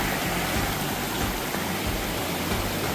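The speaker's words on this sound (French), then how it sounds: "Suivant un ruisseau avec plein de chutes et cascades." A mountain stream in the Smoky Mountains with many waterfalls and cascades rushes as a steady, full broadband roar close by, with no voices.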